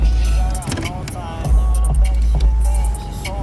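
A 1984 Oldsmobile Cutlass Supreme out on a test drive, its steady low engine and road rumble running throughout with a few faint knocks, while people talk over it.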